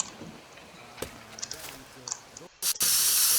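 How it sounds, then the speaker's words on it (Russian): A spray can paints in the game Teardown, a sharp loud hiss bursting in near the end after a few quieter clicks and knocks. "Ну или можно, знаете, взять баллончик"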